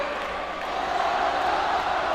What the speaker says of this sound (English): The crowd is wild out here in the swim gym.